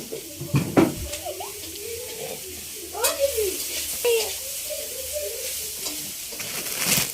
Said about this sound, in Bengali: তাই মা মুড়ি ভাজছে।